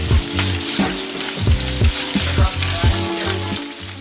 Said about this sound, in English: you want to make sure you hear that sear that you're hearing.